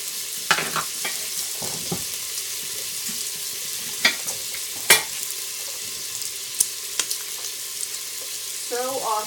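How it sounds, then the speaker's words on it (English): Bacon sizzles steadily as it fries in an Instant Pot while being stirred, a constant close hiss broken by several sharp scraping clicks from the utensil. "And giving the bacon a stir."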